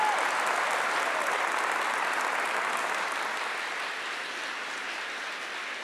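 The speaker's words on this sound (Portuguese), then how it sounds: "Você não vai aplaudir, não?" An audience applauding, a dense wash of many hands clapping that holds steady and fades slightly toward the end, with no speech over it.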